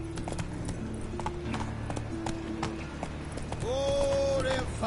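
Roach, the horse in The Witcher 3, gallops with quick rhythmic clip-clop hoofbeats over a low game ambience, and a rising tonal sound swells near the end.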